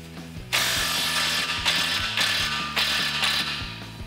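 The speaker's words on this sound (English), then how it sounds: "I'll take my 15 millimeter socket on an impact gun and I'll loosen up the clamp" An impact wrench with a 15 mm socket hammers in repeated loud bursts loosening a rusty exhaust clamp on a Ford F-150 5.0L, each burst a rapid mechanical rattle, with brief gaps between, close up.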